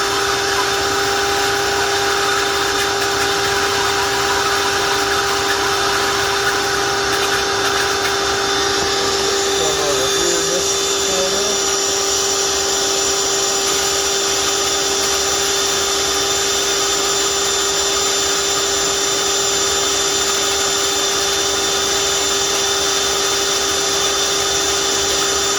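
A vacuum hums steadily and loudly for the whole stretch as it sucks debris out of a blue jelly shrimp tank during a reset, with a constant motor whine and no clear breaks.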